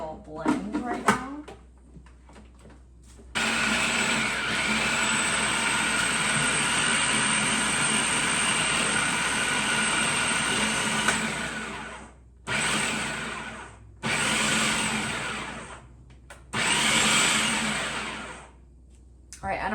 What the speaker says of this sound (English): maybe I'll do like an initial blend right now